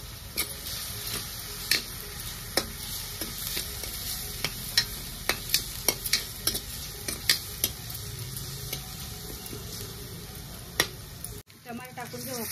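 Onion sizzling in a pan with chili paste while being stirred for a green spinach paneer dish, with steady frying hiss broken by frequent sharp spoon clicks against the pan; no speech.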